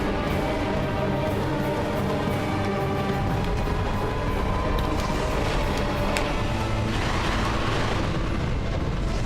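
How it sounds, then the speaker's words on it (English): Explosion attack thrown by an enemy in Dark Souls 2, a dense roaring blast sustained across the whole stretch over continuous game noise, loud and without a clear single onset. "And the other one's throwing the explosion."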